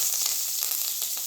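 Curry leaves sizzling and crackling in hot oil with mustard seeds and cumin, tempering for sambar in a kadai; a steady, close, bright hiss with small pops throughout.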